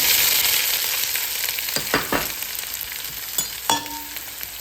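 Onions frying in hot oil with curry leaves, cinnamon, cloves and cardamom, a loud continuous sizzle up close with a few scraping stirs of a spoon against the pan near the end.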